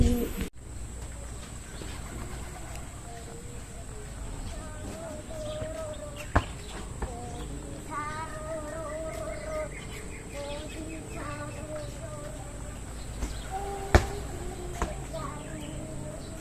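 Racing pigeons coo in a loft, soft repeated throaty coos rising and falling over a steady background hum, with occasional clicks and a few faint chirps from other birds.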